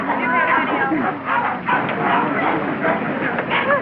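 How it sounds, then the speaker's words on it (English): Many dogs bark and yip together in a dense, continuous din at an indoor dog show, with voices talking over the clamor. "I can stand one dog, but this bedlam is getting on my nerves."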